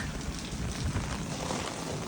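Heavy rain pours steadily through a village during a violent storm, a dense continuous hiss of falling water with low rumbling underneath, close and unbroken for the whole stretch.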